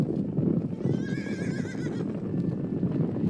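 Wild Australian horses stampede: a dense rumble of running hooves fills the scene while one whinny rises over it, close and loud.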